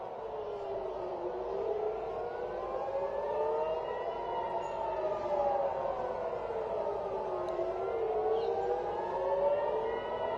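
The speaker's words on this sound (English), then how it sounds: "Yep, there you can hear the sirens. Now the sirens come in." Wailing air raid sirens in Israel rise and fall slowly in long sweeping cycles, several overlapping at a distance, sustained throughout with no talking.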